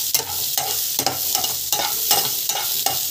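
Fennel and cumin seeds sauté in a pan with a steady, close sizzle, while a spoon stirs through them in regular strokes about every half second.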